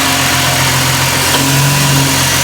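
A car engine, run for the first time after five years and just serviced, idles steadily and close by with a low, even hum throughout.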